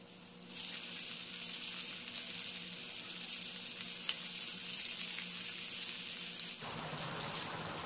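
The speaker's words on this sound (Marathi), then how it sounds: "अशा प्रकारे काट्याच्या साहाय्याने कोलंबी पलटून दोन्ही साईडनी गोल्डन कलर येईपर्यंत फ्राय करून घेऊ" Prawns shallow-fry on a hot tawa, giving a loud, steady sizzle and crackle that rises suddenly after a quiet start, with occasional scraping as they are turned with a fork.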